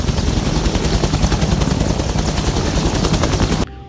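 A toy combat helicopter gives off a loud, continuous electronic rotor-and-gunfire noise with rapid rattling bursts for about three and a half seconds, then cuts off abruptly.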